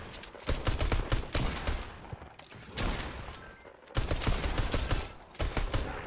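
Rapid automatic gunfire in Fortnite Creative, loud close bursts of repeated shots in several sustained volleys separated by brief pauses.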